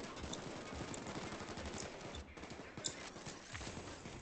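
Rapid gunfire in the heist game PayDay 2, sounding as a steady, dense rattle of shots throughout, fairly quiet and distant in the mix, with no voices.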